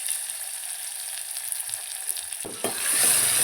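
Finely chopped onion with garlic and ginger frying in a pan for hotel-style dal tadka, a steady broadband sizzle joined near the end by a couple of utensil knocks and a louder hiss, with no voices.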